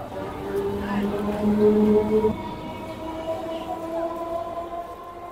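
A Bongaon local train pulls into Ashoknagar Road station with a rumbling roll, wheels squealing in long drawn tones that fade as it slows, under a faint background of station voices.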